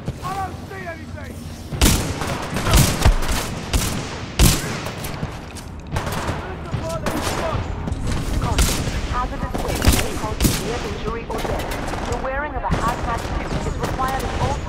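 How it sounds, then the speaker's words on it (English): Bursts of gunfire from the video game Titanfall 2, rapid fusillades and sharp booming shots cracking out repeatedly across the whole stretch, loud and dense, with game voices and chatter mixed in underneath. "Who's shooting?"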